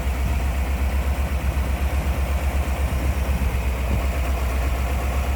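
A 1957 Ford Thunderbird V8 idling smoothly, heard up close as a steady, even low rumble with a constant pulsing beat and no talking.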